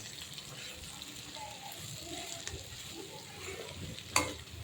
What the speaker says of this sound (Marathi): आता आपल्याला हलवून घ्यायची आहे भाजी